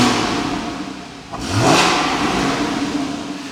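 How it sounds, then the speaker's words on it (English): A warm Porsche 981 Cayman 2.7 manual sits at idle, then gets a sharp rev that rises and falls quickly. A steady, close engine hum continues afterward. "so we can give it a bit more of a rev."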